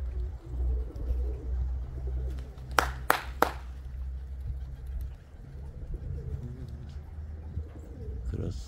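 Coos from a flock of white pigeons in a loft come through in a steady low murmur, with a few sharp claps or wing slaps in the middle and background speech.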